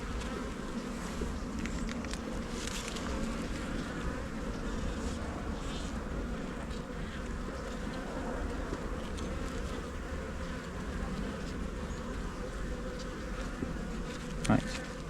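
Honeybees buzz continuously around an open hive during an inspection after a swarm, a dense steady drone close by with no talk.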